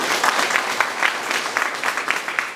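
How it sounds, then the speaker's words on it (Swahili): A crowd at a fishermen's rescue training gathering on Bumbile Island, Kagera, claps for the prime minister, a steady burst of close, dense applause with distinct individual claps standing out. "Mpigie makofi sana mheshimiwa waziri mkuu."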